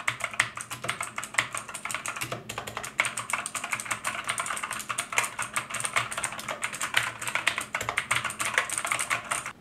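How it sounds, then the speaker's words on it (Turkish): Steady, rapid clicky typing on a Performax Xetra full-RGB mechanical gaming keyboard fitted with blue switches, dense crisp keystrokes running continuously and close up with no voices. "tabii ki normal olarak mavi switch'in vermiş olduğu o tıkırtılı sesi veriyor."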